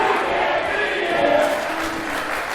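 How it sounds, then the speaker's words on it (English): At an RWA professional wrestling event, a large arena crowd chants together in a steady, continuous roar that fills the space without a break, heard from within the audience. "You can't beat him, chants the crowd."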